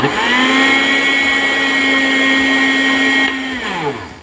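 Kitchen blender whirring steadily as it mixes mango and sugar for mango lassi, a loud continuous motor whine that winds down near the end.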